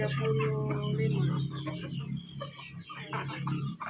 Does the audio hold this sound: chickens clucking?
yes